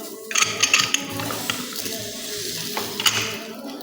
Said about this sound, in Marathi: झाकण लावून घेऊया